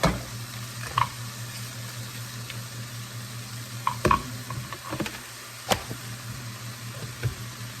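Cabbage cooks in a pan with a steady low sizzle, broken now and then by soft clatters and stirring knocks, close and alone with no talk.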